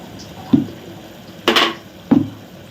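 Ground mint paste sautés in a pan for mint rice, with three separate spoon scrapes and clinks against the pan over a faint low sizzle, each short and close.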